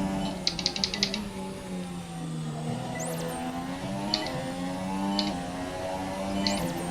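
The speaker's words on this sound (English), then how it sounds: "if you hear my paddle shifters too much. They do kind of make a loud clink when you use them" Paddle shifters on a racing wheel clink sharply while F1 2017 is played on the Australian GP circuit: a quick burst of clicks early on, then single clicks every second or so over steady game engine noise.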